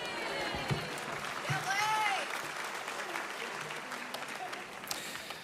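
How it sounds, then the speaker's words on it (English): Broad audience applause and cheering at a college commencement ceremony, fairly distant and steady, with a whoop-like voice rising through it midway. "It's okay to applaud. You can applaud."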